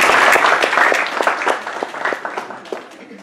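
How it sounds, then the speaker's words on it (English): Audience applause at a talk on Islamophobia, loud and dense at first, then thinning into scattered individual claps that fade toward the end. "it's not a big round of applause"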